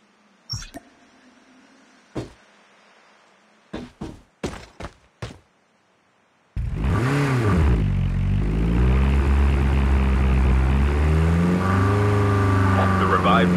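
An airdrop aircraft in Call of Duty sweeping overhead: after a few sharp clicks and taps, a loud propeller drone rises suddenly and holds, its pitch sliding and swelling as it passes close by.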